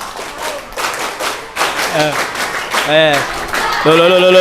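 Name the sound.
group rhythmic scout clap (tepuk pramuka)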